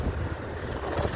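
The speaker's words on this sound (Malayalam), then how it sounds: "നല്ല കാറ്റുണ്ട്." Strong wind on a bridge roars in a steady broadband rush with mic buffeting, loud and continuous across the short stretch with no talk.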